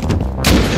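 A grenade explosion in the game Rust lands as a single loud, close boom with a low rumbling tail, short and heavy.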